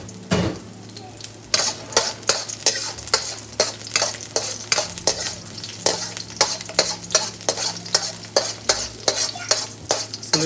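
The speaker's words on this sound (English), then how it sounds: "We add the green onion, ginger into the oil to slowly to fry it." Green onion and ginger frying in hot oil, a constant close sizzle broken by a steady rhythm of spatula strokes scraping and stirring against the wok.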